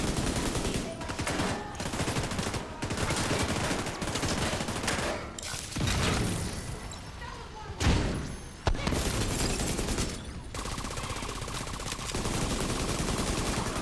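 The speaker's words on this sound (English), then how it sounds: "I'm gonna shoot you now!" Sustained gunfire in The Division 2 set in New York City, dense overlapping bursts and automatic fire almost throughout, with heavy booming impacts around the middle, loud and close in a busy combat mix.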